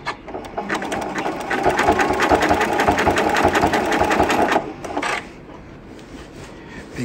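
A sewing machine runs a triple zigzag stitch along quilt binding, a fast, even mechanical chatter for about four and a half seconds before it stops, followed by quieter handling noises.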